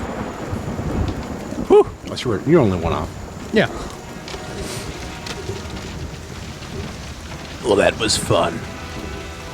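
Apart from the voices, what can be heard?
rain and thunder sound effect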